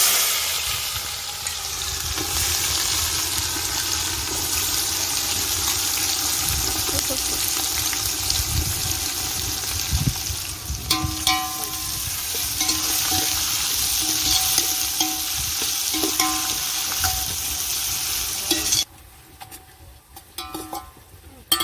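Onions fry in hot oil with whole spices for prawn biryani. A dense, steady sizzle with occasional stirring clatter continues close up, then drops sharply quieter near the end.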